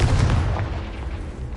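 A Confringo blasting spell goes off in Hogwarts Legacy on PS5 Pro, one heavy, booming explosion with a deep low rumble that fades out over about a second.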